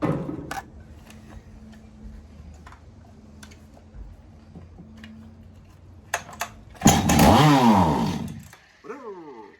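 An old 1970s Stihl chainsaw briefly catches, its engine revving up and down for a second or two, then dies, with quiet clicks and handling noises before it.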